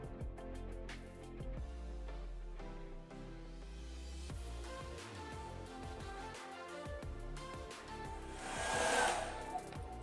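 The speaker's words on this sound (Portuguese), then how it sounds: "eu vou secar meu cabelinho e vou mostrar para vocês" Hand-held hair dryer drying short hair, a continuous airy blowing roar at low level that shifts in tone as it moves around the head, swelling briefly near the end.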